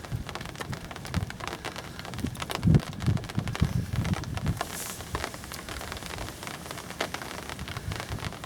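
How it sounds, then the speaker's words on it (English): Heavy rain pours down beside the River Swale, a steady dense patter with low rumbling gusts, continuous and close, no one speaking. "pouring rain, non-stop, incessant"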